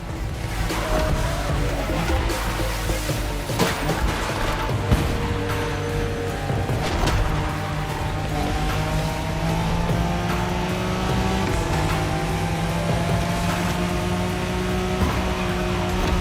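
A Nissan Skyline, the car nicknamed Godzilla, is driven in the racing game The Crew Motorfest. The engine drones loud and continuous, its revs climbing and falling through gear changes, with no voices over it.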